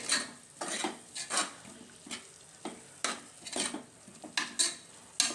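Spiced methi (fenugreek leaf) rice masala being stirred in a pan, giving repeated scraping and clinking strokes of a spoon against metal with a light sizzle underneath, close and steady with no talking.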